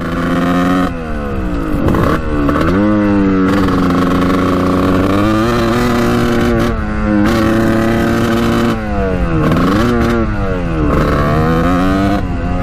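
A 1989 Kawasaki KX125 two-stroke dirt bike engine held at full throttle, a loud, continuous high-pitched buzzing wail that rises and dips in pitch through repeated revving surges, close to the listener and alone.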